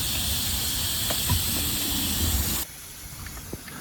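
Spray paint hisses steadily onto parts of a self-built overland truck for about two and a half seconds, close and loud, then cuts off abruptly, leaving quieter ambience with a few faint knocks.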